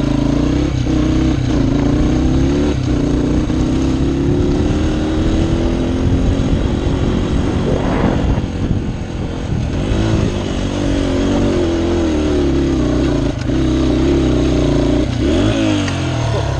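Motorcycle accelerating up a dirt hill climb, its engine revving loud and close with a rising then falling pitch and a brief dip in the middle, with no talk.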